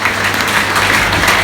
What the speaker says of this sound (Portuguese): Aplauda o Rei Jesus Cristo Nazaré